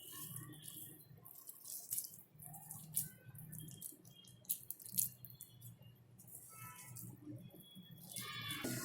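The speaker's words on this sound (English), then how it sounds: "So now I put the water." Quiet running water trickles and splashes continuously as it is poured into a pot, with faint clinks and rattles near the end.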